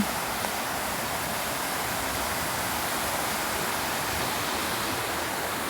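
A river in Balingen near a small castle rushes steadily, a dense, even roar of flowing water that fills the whole stretch without pause or voices.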